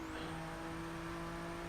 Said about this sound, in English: You barely have to touch the brakes, and the car's just locking up